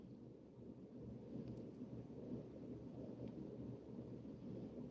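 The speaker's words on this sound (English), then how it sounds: "Thundering and lightning." A thunderstorm rumbles steadily with heavy rain and low, rolling thunder, a dense continuous wash of sound with no voices over it.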